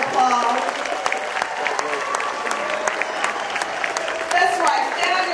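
An audience at an outdoor jazz festival applauds a group of young people and their mother, a steady, dense wash of many hands clapping at close range, swelling again near the end with a few scattered whoops.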